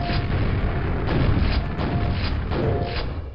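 Grenade explosions in the Quake shooter, a dense continuous rumble of booms and bursts layered under game noise, loud and sustained through the whole stretch with no pauses between blasts.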